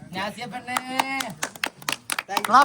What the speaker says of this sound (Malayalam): അവർക്ക് വേണ്ടി ബിഗ് ക്ലാപ്പ്.